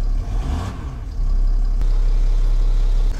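A 3.0-litre car engine runs steadily nearby, a low constant rumble that grows slightly louder after the first second and holds, with no talking.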